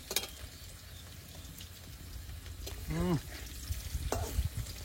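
Soft frying hiss of potatoes in oil with light stirring and scraping in a pan, a brief voice-like sound partway through, and occasional utensil clicks.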